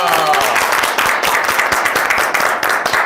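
A studio audience claps loudly and close at the end of a talk show featuring cleaning company owners. The crowd keeps a steady rhythm throughout, and a voice is briefly heard at the start.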